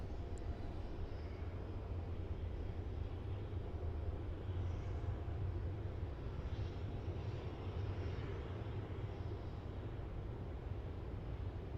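A Qantas Boeing 717 rolls down runway 16 at Melbourne Airport for a Launceston departure, giving a steady broadband engine roar that stays loud and constant throughout, with some wind noise and no talk.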